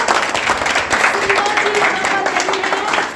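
Steady applause from an audience after students perform at an Urdu academy acting workshop, dense continuous clapping filling the whole stretch with a faint murmur of voices beneath.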